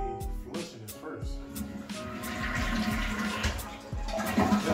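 A toilet flushing during a Lotus ATS-500 bidet installation, water rushing and swirling into the bowl and building to a steady gurgling refill, close by, with someone talking over it.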